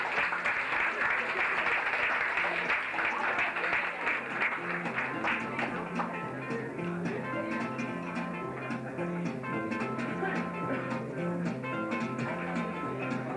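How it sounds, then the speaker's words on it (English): An audience at a Mountainlodge gathering in 1981 claps warmly for several seconds, and the applause then thins out as tonal sounds and background voices take over. "how about a wee round of applause for them before we do start?"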